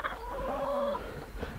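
Chickens cluck softly in a coop, a brief, close burst of low warbling bird sounds with no talking.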